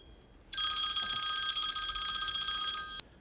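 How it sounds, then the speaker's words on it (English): Electronic telephone ring, one bright continuous trill of about two and a half seconds that starts and stops abruptly, loud and close in an otherwise quiet room with no talking. "Got to get this phone call."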